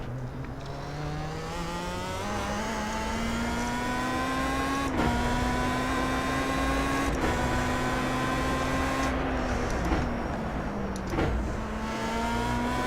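A racing car engine drones and revs steadily in a racing video game, the pitch climbing through the gears with brief dips at each shift, loud and continuous throughout with no talk.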